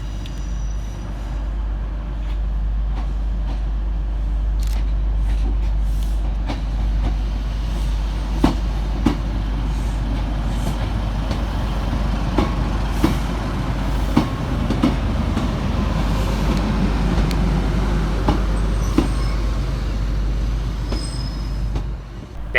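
A Northern service from Bishop Auckland arrives and terminates at Saltburn station on the Tees Valley Line, a steady rail rumble with low engine drone and intermittent wheel clicks and clacks, fairly loud and continuous with no talking.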